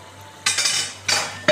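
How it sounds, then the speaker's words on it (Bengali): A cooking pot lid lifted off during Bengali jhinge mugdaal cooking, giving two short metallic scraping clinks followed by a brief knock, close and clear against a quiet kitchen background. "এবার আমি ঢাকনাটা খুলে দেখি কেমন হলো"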